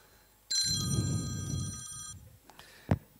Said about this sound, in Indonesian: Telepon Bapak Ibu. Ntar saya angkat dulu ya.